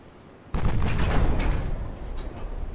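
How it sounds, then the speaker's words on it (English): Eight-inch naval guns firing in the warship game Ultimate Admiral Dreadnoughts: a sudden loud boom cracks out of low ambience, followed by a rumbling, rolling blast with a few further bursts that slowly fade. "there go the 8-inch guns firing again"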